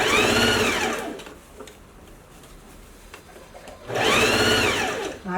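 A sewing machine stitches the seam of a lined coat, two loud bursts of fast rhythmic whirring with a quieter pause between them, close by, with no speech.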